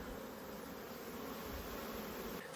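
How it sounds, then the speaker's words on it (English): Honey bees buzz inside an open hive box, a faint continuous droning hum with no voices, steady throughout and cut off abruptly near the end. "there's still obviously quite a lot of bees in here"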